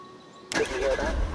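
A car engine in the survival game Once Human cranks and catches abruptly, then settles into a steady mid-pitched rumble, loud and close, after a quiet lead-in.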